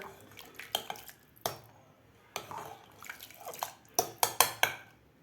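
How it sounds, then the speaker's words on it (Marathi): Whole masoor lentils and water being stirred in a pressure cooker, with soft liquid sloshing and several sharp clinks of a spoon against the metal pot, close and fairly quiet. "आता आपण व्यवस्थित हलवून घेऊया पाणी घातल्यानंतर"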